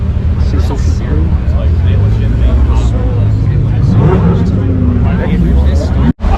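A BMW M550i accelerating hard on a highway, with a loud continuous engine drone and road roar heard from inside the car. Someone talks over it throughout.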